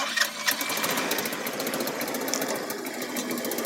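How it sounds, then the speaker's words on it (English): A small buggy engine, freshly carb-tuned, runs right after starting with a fast, buzzy, rattling idle, close and fairly loud, steady for a few seconds without speech. "All right, start her up."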